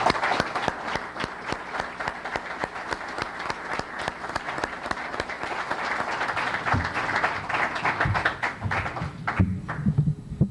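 At a conference on state electoral reform, the audience welcomes the president of the State Electoral Tribunal with sustained applause, many hands clapping in a dense, uneven patter that thins toward the end amid some low rustling.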